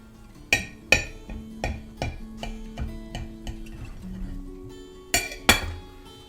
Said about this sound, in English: So let's go ahead and give it a cut